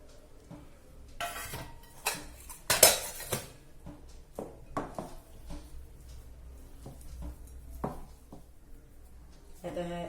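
Ginger-garlic paste, chopped coriander and mint leaves are mixed in a metal pot with a spoon, giving scraping strokes and sharp clinks against the pot. A louder clatter comes near the start, then quieter scrapes follow.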